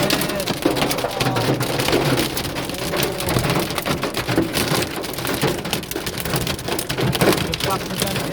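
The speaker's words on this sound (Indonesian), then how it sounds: "Oh, ini suaranya hujan es." Hail pours down hard in Mecca, a dense steady drumming of ice pellets on surfaces close by that never lets up, with voices faintly heard under the din.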